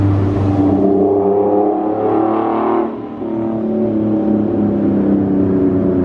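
A Nissan 370Z with a Motordyne Shockwave exhaust accelerates nearby, its loud, rising engine note droning with a brief dip near the three-second mark before pulling strongly again.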